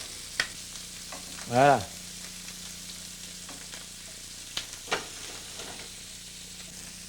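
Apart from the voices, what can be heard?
chicken pieces browning in a pan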